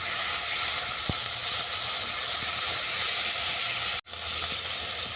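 Spice paste of chili powder and garam masala fries in oil for a crab curry, giving a steady, close sizzle with one sharp clatter near the end.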